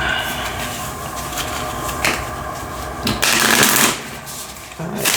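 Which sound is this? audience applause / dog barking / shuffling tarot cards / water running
shuffling tarot cards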